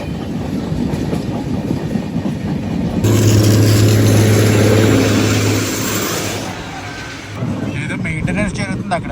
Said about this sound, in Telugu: అలా గూడ్స్ ఎదురైంది. ఆటోమొబైల్ క్యారియర్ అది.